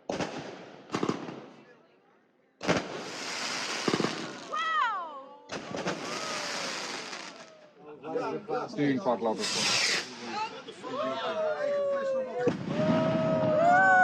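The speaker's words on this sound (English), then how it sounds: "And watch the fireworks, of course." New Year fireworks at a sailing community party burst in loud separate volleys of cracks, crackles and whistling rockets, with pauses between, and people talk and cheer throughout.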